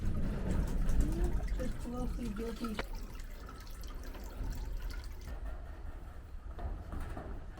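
Water from a spring near a church trickles and drips steadily at close range, with a soft continuous flow that runs through the whole stretch, and voices and faint ambient noise are heard in the background early on.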